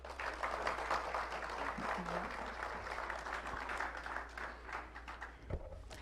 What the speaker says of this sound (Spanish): Vamos a darle la bienvenida a Luis Céspedes con fuertes aplausos.